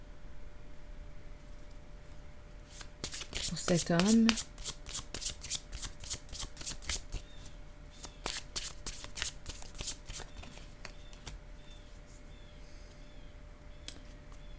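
A deck of oracle cards is shuffled by hand: a dense burst of riffling flutter, then a long run of crisp, evenly spaced card clicks that slowly thin out. A voice speaks briefly near the start.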